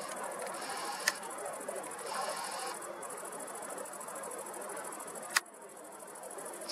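A camera shutter clicks twice, sharp and isolated, while photographing the night sky during a full moon and Mars viewing, over a quiet outdoor hiss with a faint steady hum.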